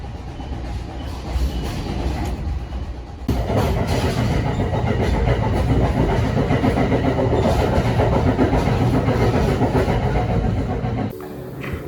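An NJ Transit train runs along the Raritan Valley line toward Newark, with a steady loud rumble of wheels on rails and a rolling clatter throughout. The sound grows louder after a few seconds and drops away near the end.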